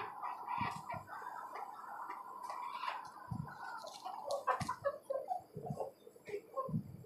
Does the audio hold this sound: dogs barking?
no